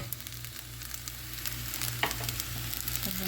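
Strained tomatoes hit a hot pot and sizzle steadily, with a low hum beneath and a few clinks and scrapes from stirring, close and even throughout.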